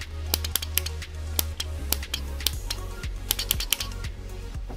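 Spark gap radio telegraph key tapping out the SOS distress signal in Morse code, a series of sharp clicks in short and long groupings over a steady low hum, close and fairly loud with no talking.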